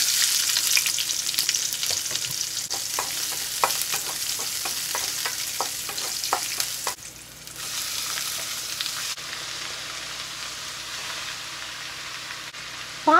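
Spinach cooking in oil with onions and chillies, a loud, dense close-up sizzle broken by a quick run of rhythmic spatula taps and stirring clacks, then settling into a softer steady frying hiss.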